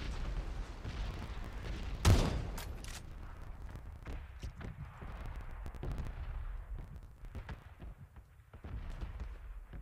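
Gunfire in a video game: one sharp, loud shot stands out early, followed by scattered fainter pops and distant shots over a steady background rumble.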